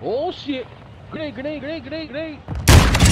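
A grenade blasts in Call of Duty Warzone 2.0, a single loud, close explosion that bursts in abruptly after a player's excited, shouting talk.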